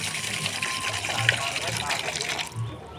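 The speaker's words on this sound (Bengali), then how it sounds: "সাবুটাকে ভালো করে ধুয়ে জলটা ফেলে দেব।" Water splashes and swirls as soaked sago (tapioca pearls) is rinsed in a bowl, a steady close-up sloshing and gushing that continues for a few seconds.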